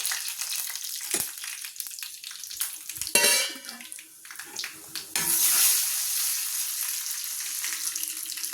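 Curry leaves and chillies hit hot oil in a Kerala kitchen, bursting into a loud sizzle that spikes sharply at each addition and settles into a steady, close frying hiss.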